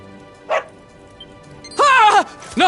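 A dog in the Dragon Quest XI video game barks: one short yip, then a longer, loud bark and the start of another, close and clear over a quiet background.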